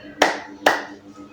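Two sharp hand claps from a classroom group playing a greeting game, spaced about half a second apart, each ringing briefly in the room over a quiet background.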